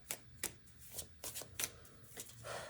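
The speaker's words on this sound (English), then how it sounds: "I'm shuffling my last deck here." An oracle card deck is shuffled by hand in a handful of quick, papery riffling bursts with short pauses between them, close up but fairly quiet.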